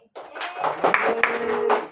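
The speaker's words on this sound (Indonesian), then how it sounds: "Boleh tepuk tangan dulu buat Sakti." Applause for Sakti at an Indonesian talk session: a short burst of audience clapping that swells in and fades over about two seconds, fairly close and dense.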